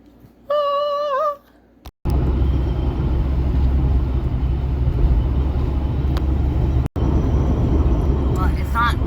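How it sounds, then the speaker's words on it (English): Road traffic on Old Highway 59 near Cleveland, Texas, with a van ahead and a truck behind, makes a continuous low rumble close by after a brief voice, and cuts out for a moment near the end. "there's a van in front of us and a truck behind us"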